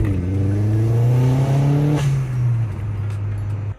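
Vauxhall Astra VXR track day car doing a burnout, engine held at high revs with a strong sustained drone that dips and settles, close and loud, cutting off at the end.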